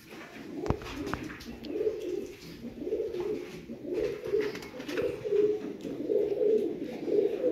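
Rare pigeons coo in a steady, repeating rhythm of soft low calls, moderately close and continuous throughout, with a sharp click near the start and no talking.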